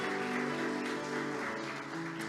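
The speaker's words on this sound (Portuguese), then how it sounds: "Se você crê nisso, aplauda Ele" A church congregation claps steadily through a Protestant service, a continuous even patter of hands blended with sustained musical tones underneath.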